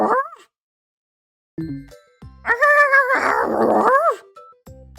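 Dog sound in the My Voice Zoo video game, a short series of whiny, yelping barks and a drawn-out howling whimper with silent gaps between, closely voiced and apparently imitated by a human voice.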